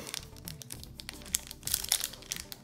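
Crinkly plastic foil of a Pokémon card booster pack handled and rustled up close, with irregular crackling bursts that grow busier toward the end, no talking.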